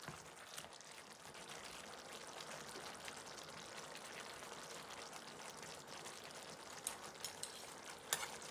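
Food fries in a pan with a soft, steady hiss and faint crackle, a few small pops near the end, quiet and without talk.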